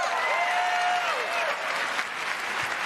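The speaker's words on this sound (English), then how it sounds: "clapping." A crowd at the Bethesda E3 2019 conference claps in sustained, dense applause, with a sliding tonal sound from a trailer briefly audible over the steady clapping.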